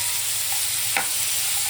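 Cashews frying in plenty of ghee in a pan, a steady close hiss of sizzling with one brief scrape of a spoon midway, no talking.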